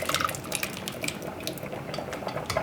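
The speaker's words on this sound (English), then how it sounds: "now I'm gonna pour the liquid into here and strain out all my big chunks of cranberries" Cranberry pork roast cooking liquid, with chunks of cranberries, onions and garlic, poured through a strainer in a home kitchen, giving a steady close splashing trickle with faint clinks of metal and dishes, no talking.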